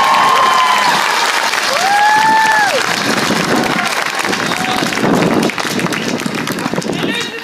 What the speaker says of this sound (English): I think he deserves a big hand of applause.